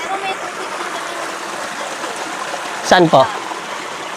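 A natural spring's water streams steadily in the open, a continuous trickling wash, with brief talk breaking in near the end.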